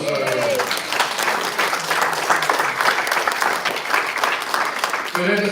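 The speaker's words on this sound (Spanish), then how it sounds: "Den un aplauso a Jesús." Church congregation applauding Jesus during a Sunday service, a dense steady wash of clapping filling the room, with a few voices briefly audible at the start and end.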